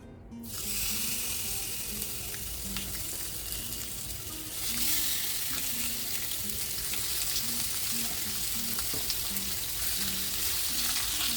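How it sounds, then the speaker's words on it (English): Pork chops frying in a hot pan hiss with a steady, dense sizzle that swells noticeably louder partway through and carries on without letup, with faint crackles and no talking. "now I'm going to add my pork chops onto my pan"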